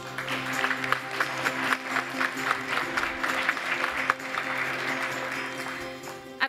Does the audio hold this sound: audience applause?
yes